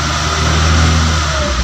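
A car engine with EFI held steady at about 2000 rpm during a tune-up, a continuous loud mid-pitched drone with a stable hum and no talking.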